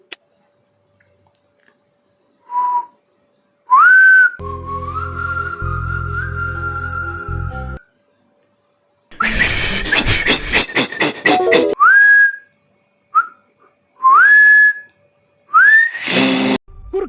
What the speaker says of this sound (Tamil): நம்ம இப்போ வந்து விசில் அடிப்போம்